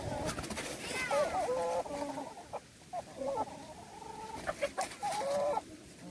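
Backyard hens in a mixed flock cluck and call repeatedly in rising, squawky bursts, fairly close, with a person talking quietly underneath.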